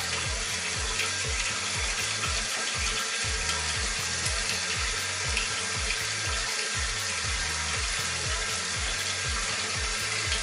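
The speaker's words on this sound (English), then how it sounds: "Time to rinse." Tap water runs steadily into a sink while rinsing during a night skin care routine, a continuous broadband wash with low rhythmic gurgling underneath, close and alone without talk.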